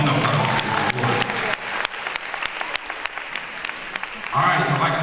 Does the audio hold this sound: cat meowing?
no